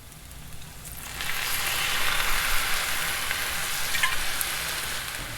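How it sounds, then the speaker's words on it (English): Rice hits a hot oiled pan and fries with a steady sizzling hiss. It swells after the first second and stays bright and fairly close, with faint stirring and no voices. "Did you hear that sizzle?"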